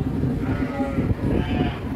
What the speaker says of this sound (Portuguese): Vê só o tamanho dessas ovelhas aqui